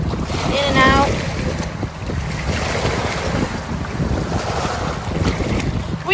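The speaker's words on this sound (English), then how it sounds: "it just comes into the little tide pool areas and it just kind of washes in and out" Ocean water washing in and out of small tide pools along a beach, a steady rushing wash of surf with heavy wind buffeting the microphone throughout.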